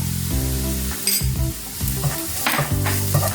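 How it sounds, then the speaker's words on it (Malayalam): Onion and chilli flakes sauté in a pan with a continuous close sizzle, broken by stirring scrapes and light clinks of the utensil against the pan. "ഇനി ഒനിയൻ നന്നായിട്ട് ഒന്ന് സോട്ട് ചെയ്യുക."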